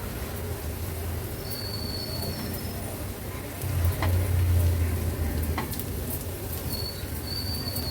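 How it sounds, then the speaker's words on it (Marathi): Turmeric and homemade Agri Koli masala frying in oil over a medium gas flame, a steady soft sizzle running throughout, swelling louder midway with a low rumble and a few faint clicks and chirps in the background. "हळद आणि मसाला तेलावर सुरुवातीला छान आपल्याला शिजवून"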